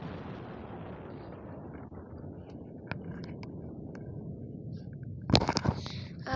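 In a video game, a planet is destroyed. A low, rumbling explosion roar fades out slowly, then a sharp, loud burst of crackling blasts comes near the end, with no talking.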